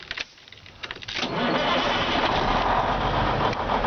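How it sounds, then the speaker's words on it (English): A 1995 International 9300 day-cab truck's N-14 Cummins diesel cranks briefly, then catches and settles into a loud, steady idle that fills the rest of the clip, recorded close to the engine. "I'm going to walk up and fire up this engine"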